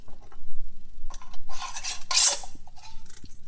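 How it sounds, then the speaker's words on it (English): Metal rings screwed onto canning jars for home-canned ground meat: a series of close metallic scrapes and clinks, irregular and grinding, with a brighter rasping twist in the middle and small taps trailing off. "And now we put the rings on."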